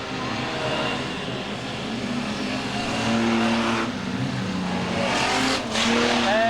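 Modified production race cars lapping Maryborough Speedway, engines roaring loud and steady with a rising, layered drone as several cars pass close by, alone without talk.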